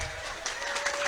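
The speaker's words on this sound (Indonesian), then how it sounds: "Mana tepuk tangannya?" Crowd clapping at a lively Sundanese-language comedic religious sermon, a brief, fairly quiet patter of hands from the audience lasting about a second with no speech.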